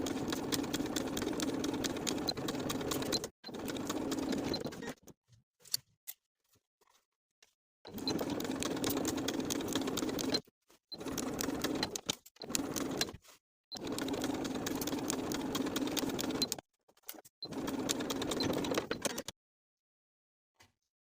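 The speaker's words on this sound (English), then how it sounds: "end your stitches at the seam line as we did on the other side" A sewing machine stitches the lining of a women's wool jacket in steady, loud whirring runs of a few seconds each, split by short silent pauses, with no voices.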